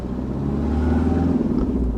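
A Mercedes 190 W201 with over 900,000 km idles and pulls away, its engine a steady, close, loud low rumble that swells slightly as it moves off.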